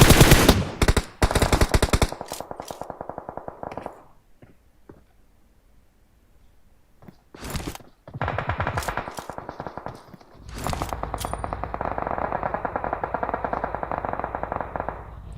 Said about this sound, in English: Putting the shots down